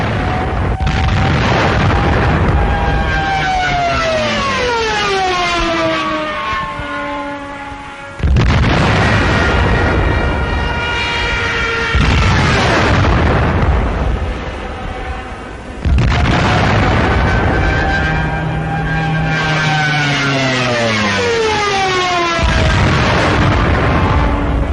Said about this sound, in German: Stukas kämpfen sowjetische Panzer nieder, die den Weg sperren.